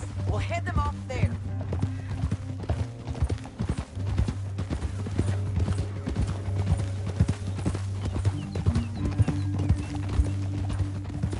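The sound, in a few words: horse galloping, video game Red Dead Redemption 2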